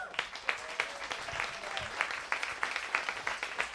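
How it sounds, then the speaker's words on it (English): Audience applause at a jazz concert in a smallish venue, a steady patter of clapping hands lasting throughout, moderately close and even without a clear peak. "a round of applause for Women's History Month"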